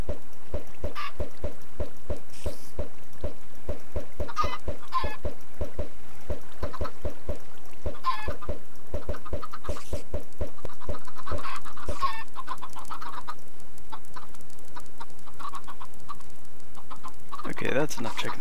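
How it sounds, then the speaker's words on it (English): Chickens in a Minecraft FTB mod pack, clucking repeatedly in a rapid, even rhythm of short blips over several seconds, then thinning out to scattered sounds. "now that we need more chickens, just throw these guys in here"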